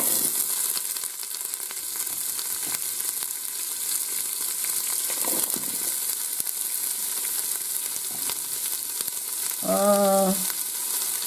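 Onions and mushrooms fry in olive oil inside a Ninja Foodi pot, giving a steady, close hiss across the whole stretch, with a brief tonal beep near the end.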